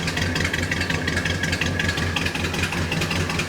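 A long-dormant 1971 Plymouth Roadrunner engine idles steadily up close, a rough, throbbing low rumble with a slightly uneven pulse.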